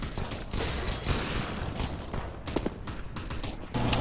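Rapid gunfire in a multiplayer shooter video game crackles in dense bursts of sharp shots, some near and some farther off, continuing with short gaps over a busy background.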